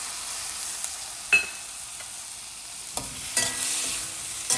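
Tomato cooking in oil with onions for a curry, a low continuous sizzle broken by a few sharp clicks and scrapes of stirring, with a louder sizzling surge near the end.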